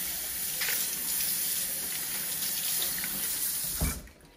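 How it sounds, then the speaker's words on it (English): A faucet runs steadily into a sink as a wine glass is rinsed, a close continuous rush of water with small splashes and a clunk near the end as the flow stops. "I'm going to rinse out my wine glass."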